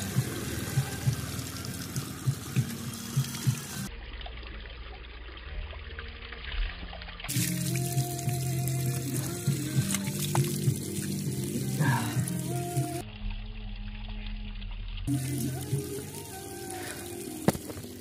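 Drinking water runs and trickles steadily outdoors at a public water spot, a continuous splashing flow with a few brief dropouts and some background noise.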